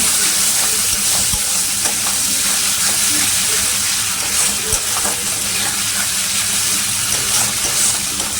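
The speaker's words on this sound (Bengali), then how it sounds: "হলুদগুলো ভালো করে নাড়িয়ে নেব" Turmeric powder being stirred into sizzling spices in a frying pan while cooking a Bengali rui fish curry; steady frying hiss with scattered scraping clicks of the spoon, close and continuous.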